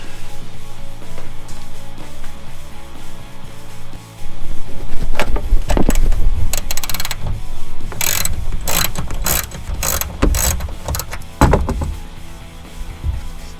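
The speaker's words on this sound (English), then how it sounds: "Some wrenches." A wrench ratchets loose 10mm plastic nuts on a Ram ProMaster van headliner inside a Winnebago Travato, with close, loud bursts of rapid clicking separated by short pauses.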